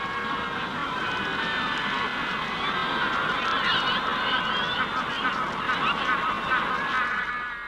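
A Magellanic penguin and her two well-grown chicks calling in a colony: loud, overlapping honking and braying cries, repeated with a ragged rhythm over a constant bed of colony noise, close and with no talking.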